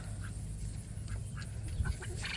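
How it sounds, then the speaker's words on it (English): Ducks quack softly and intermittently in a farm pen, short nasal calls scattered over a steady low rumble of outdoor background noise, fairly faint and somewhat distant. "Speaking of the ducks, there they are."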